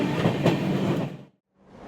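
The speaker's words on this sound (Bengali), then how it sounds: "আমাদের ট্রেন কিন্তু ফাইনালি এসে পৌঁছে গেছে ব্রহ্মপুর" Chennai Mail passenger train pulling into Brahmapur station, a steady loud rumble of wheels on rails that cuts out abruptly near the end before noise returns.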